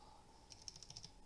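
Faint, rapid clicks from the clicky switch of an off-brand mechanical keyboard, about seven crisp presses in quick succession over a low background hum.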